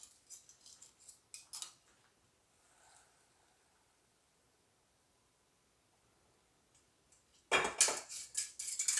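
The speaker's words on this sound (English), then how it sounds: "We're going to dump out this water." A metal pot clatters and scrapes briefly, then a long quiet stretch before a loud rushing splash as boiling water is dumped out, with more clanking.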